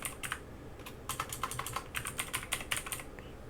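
Keys clatter on a computer keyboard in quick, irregular bursts of typing, close and clear with no voices.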